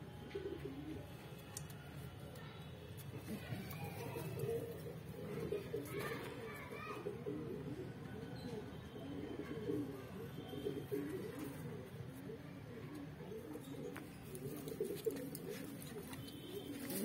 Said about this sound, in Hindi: सारे एक नंबर के छाट के कबूतर हैं, टोटल कबूतर हैं ये 23।